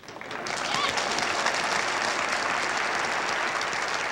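Audience applause at Yakov's stand-up comedy show swells within half a second and then holds as a thick, steady clatter of many hands, with faint voices mixed in beneath.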